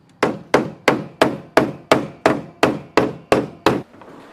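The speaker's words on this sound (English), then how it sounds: "I'm putting a hammer in the back of the section here to flatten it out" Eleven sharp, evenly spaced hammer blows ring out one after another at a steady rhythm as a hammer flattens a dented metal panel from behind, each strike followed by a brief metallic decay.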